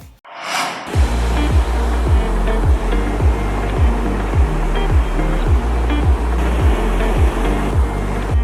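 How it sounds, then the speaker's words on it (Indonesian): Ocean waves break steadily on a sandy beach in a loud, continuous roar of surf. A low rhythmic pulse recurs about every half second beneath the wash. "suara hantaman ombak di pasir pantai seolah melafazkan nada-nada indah yang menghibur"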